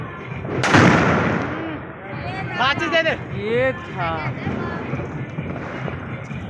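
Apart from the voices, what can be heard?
firecracker exploding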